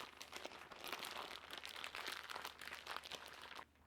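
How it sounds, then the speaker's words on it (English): A plastic bag is squeezed and handled to press the air out around coated pork for Finnish Kassler steak, a soft, steady crinkling that runs for several seconds before stopping abruptly. "get all the air out of the plastic bag"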